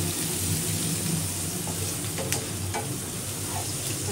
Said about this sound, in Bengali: তাই পেঁয়াজ একটু ভাজা ভাজা হোক নাকি?